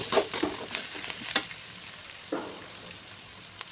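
White chickpeas sauté with garlic paste in a pan, a brief burst of sizzling with a few sharp scraping stir strokes near the start that settle into a quieter hiss.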